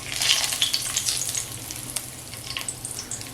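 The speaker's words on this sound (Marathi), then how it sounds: "तेजपत्त्याचे ना असे तुकडे केले तसे आणि तेजपत्ता टाकते बघा" Torn bay leaf pieces sizzling in a hot pan over a low gas flame, a steady close crackle with light stirring rustles and scattered sharper pops throughout.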